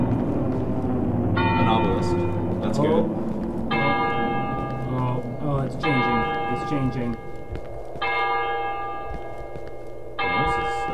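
A deep bell tolls repeatedly in the horror video game Cry of Fear, each strike ringing out long and loud in slow regular intervals while someone talks over it.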